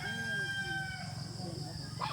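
A rooster crows at a rural property in Masbate, a drawn-out call rising and falling over about two seconds, faint beneath low background murmur and bird sounds.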